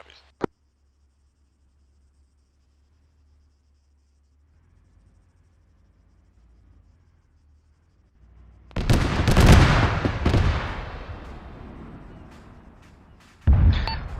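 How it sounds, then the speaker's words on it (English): Heavy gunfire erupts during a military training exercise: after near silence, a loud dense burst of rapid shots and echoes, followed by another sharp volley at the end. "I'm hearing heavy gunfire coming up toward the support by fire position."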